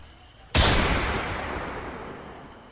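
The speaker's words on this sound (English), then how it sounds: "Gunshot. Muffled, though. Distant." A single gunshot, muffled and distant, lands as one sharp crack that rolls out into a long fading rumble, alone against quiet background hum.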